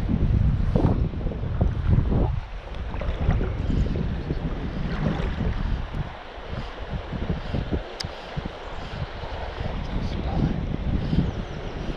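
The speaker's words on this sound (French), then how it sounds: "Le petit vent, là" Light wind gusting across a microphone beside the Célé river, a rough, broadband rumble that swells and dips throughout, close and fairly strong, with brief voices mixed in.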